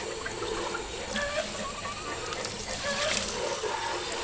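Water runs steadily with a splashy, broadband rush, like a tap filling or rinsing a bucket, continuous and close.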